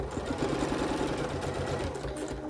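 Sewing machine stitching fabric for a small Christmas tree ornament, a steady, continuous mechanical whir with a fast rhythmic clatter, close and even throughout.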